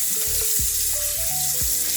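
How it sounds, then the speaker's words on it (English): Saltfish sizzles in a frying pan with a steady, close, hissing crackle throughout and no talking over it. "Saltfish is in the frying pan."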